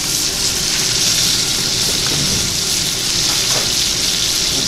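A steak, freshly flipped with its bone side in hand, sizzles loudly and steadily in a hot pan, a dense crackling hiss with no pauses and no talk.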